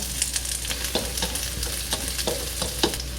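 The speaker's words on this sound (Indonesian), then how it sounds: "Sekarang saya akan menumis bumbu. Ini bawang merah, bawang putih, plung-plung aja langsung." Shallots and garlic sizzle steadily in hot oil in a wok, a constant crackling hiss punctuated by light scraping stirs, with no talking.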